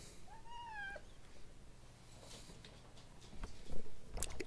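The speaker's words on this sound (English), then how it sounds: "keep meowing at everybody else" A house cat gives a short rising-and-falling meow, then a second brief meow, followed by faint rustling and light thumps nearby.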